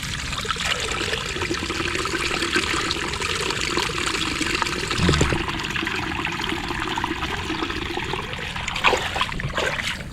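Water pours and trickles steadily as a full azolla pond is drained, a continuous near splashing flow running alone throughout with no voices.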